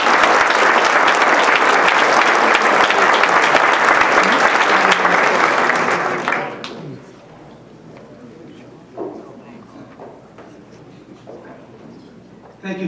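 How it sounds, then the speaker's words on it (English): Loud, dense applause from a banquet audience at a Hong Kong commissioner's dinner fills the room for about six seconds, then cuts off sharply, leaving quiet room murmur with faint scattered sounds. "So let us give them a big round of applause."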